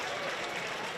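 A stadium crowd in Philadelphia gives a spring training ovation for Freddie Galvis, dense steady applause and cheering filling the whole moment, loud and continuous.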